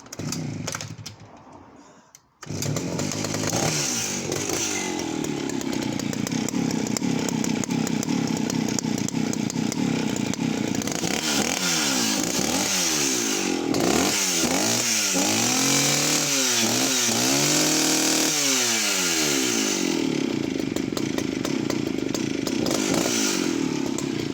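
A vintage West German Stihl 041AV professional 61cc chainsaw starts up after a short pause and then settles into a steady, loud, slightly warbling idle that runs close by without speech.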